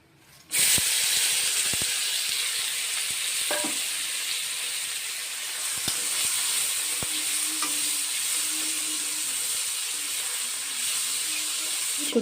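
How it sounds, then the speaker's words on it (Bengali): Dried fish hits hot oil in a wok with a sudden loud hiss that settles into a steady, bright sizzle, broken by occasional clicks and scrapes of stirring. "এখন আমি এই তেলে শুটকিগুলো ভালো করে ভেজে নেব।"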